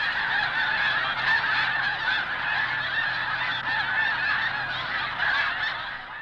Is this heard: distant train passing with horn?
no